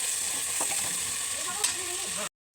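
Mutton curry frying in a pan, a moderate steady sizzle with faint stirring sounds and one small knock, then a sudden cut to silence.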